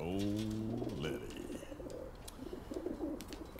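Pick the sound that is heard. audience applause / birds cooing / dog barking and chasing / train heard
birds cooing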